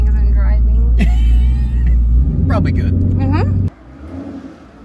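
A twin-turbo 2019 Ford Mustang GT engine rumbles loudly and steadily from inside the car beneath people talking, then drops sharply to a quieter idle-like hum near the end.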